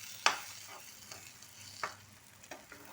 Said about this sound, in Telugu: ఇలా కలిపేస్తాం మిక్స్ చేసేస్తే మంచిగా మిక్స్ అయిపోతుంది